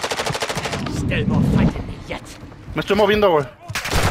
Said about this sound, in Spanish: Me están disparando los putos bots, güey.